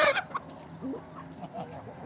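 Chickens cluck softly in a farmyard shared with geese, a brief louder call at the start and then scattered low clucks, fairly close.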